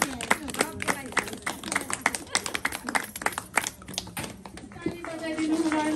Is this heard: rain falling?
no